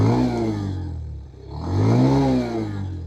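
A Bajaj Pulsar 150 Std motorcycle engine revs up close and loud, with a throaty note rising, dipping briefly near the midpoint, then climbing again in a second strong rev.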